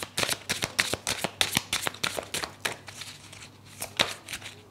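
Oracle cards shuffled by hand, a rapid string of crisp papery slaps and riffles, close and fairly quiet, with a brief pause partway through before the shuffling resumes.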